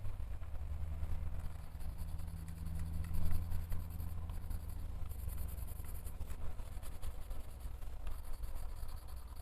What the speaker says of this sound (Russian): Хорошо здесь карандаши ложатся